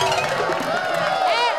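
A studio audience at an Indonesian comedy news show cheers and jeers at the presenter, a dense burst of shouting with rising whoops near the end, loud and close.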